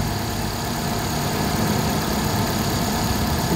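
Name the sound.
overheating car engine idling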